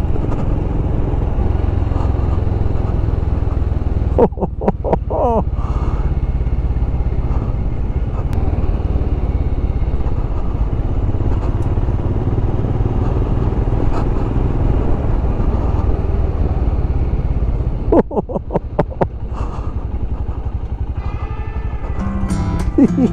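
A motorcycle ride on an open road, with a steady loud engine drone and wind rush throughout and brief shifts in engine note near the start and end; a voice speaks briefly.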